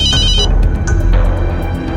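A telephone rings loudly and close, its bright electronic tone pulsing in repeated bursts over a low background hum, with no one speaking.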